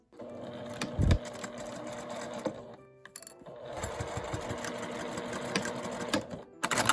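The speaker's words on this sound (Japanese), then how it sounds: "5センチのまちを縫います。" Sewing machine stitching a 5 cm gusset on a small quilted fabric pouch, a close rapid mechanical chatter in two runs separated by a short pause, with a few handling thumps.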